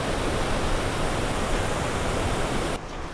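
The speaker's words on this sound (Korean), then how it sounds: "봐도 봐도 끝이 없어, 폭포가." Iguazu Falls waterfall in Argentina, a loud, broad, unbroken roar of falling water heard up close, steady for the whole stretch before dropping slightly at the end.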